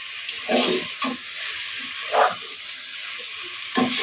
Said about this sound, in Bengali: মশলার সাথে ভালোভাবে মেখে নেব।